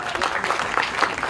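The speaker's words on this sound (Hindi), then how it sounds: "एक बार जोरदार ताली चाहिए निधि के लिए" An audience claps loudly for Nidhi at a film promotion event, a steady crowd applause that fills the short moment.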